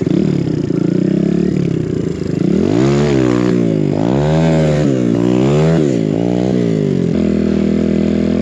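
A BBR KLX170RF dirt bike engine revs hard and close in knee-deep snow, several rising and falling throttle blips over a steady idle, loud with no talk.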